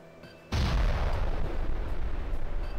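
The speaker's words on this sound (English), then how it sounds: "There's a lot of explosions." Video game explosions in Space Station 13 hit with a sudden loud boom, then a dense, sustained rumbling roar of blasts that keeps going to the end.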